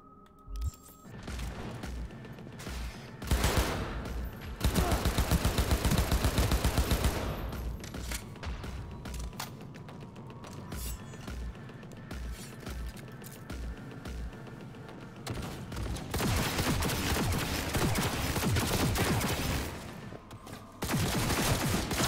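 Turret gunfire in Cyberpunk 2077, loud sustained automatic bursts with heavy booms and crashes, rattling almost continuously with short pauses between volleys.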